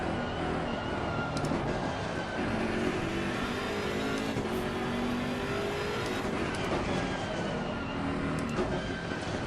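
A GT race car in the Assetto Corsa Competizione racing game drones steadily at high revs, the engine note rising and falling through gear changes as it powers out of a long tightening corner, loud and continuous.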